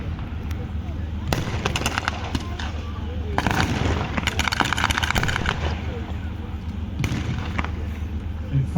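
WWII reenactment battle with a mounted MG32 heavy machine gun: continuous dense bursts of gunfire and booming incoming rounds, loud and sustained throughout, with rapid crackling volleys rising and falling over a rumbling outdoor background.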